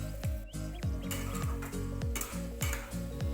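Boiled vegetables for spinach chorchori stirred in hot oil with tempering spices, a spoon scraping the pan in steady repeated strokes over a continuous close sizzle.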